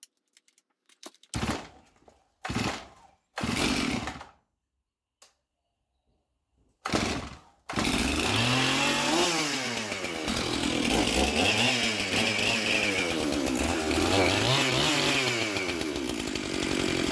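A Stihl MS391 chainsaw with a newly replaced oil pump, oil line, clutch and drive sprocket sputters through several short bursts, then fires up and runs loud and steady, its engine pitch rising and falling as the throttle is worked.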